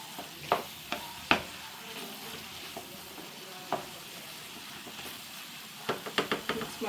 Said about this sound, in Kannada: ಇವಾಗ ಇದನ್ನು ಹೀಗೆ ಮಿಕ್ಸ್ ಮಾಡ್ಕೊಳ್ಳೋಣ